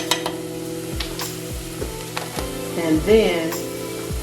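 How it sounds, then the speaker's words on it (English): A spoon scrapes and knocks rhythmically through a sizzling stuffing mixture with dried sage in a hot pan, close and fairly loud, while a person speaks briefly. "stir this around a little bit"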